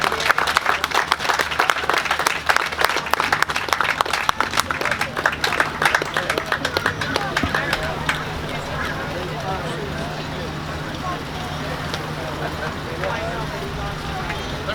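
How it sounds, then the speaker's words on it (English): Audience applause for two people introduced on stage, dense rapid clapping for about eight seconds that thins and fades into crowd murmur and room noise. "Another round of applause,"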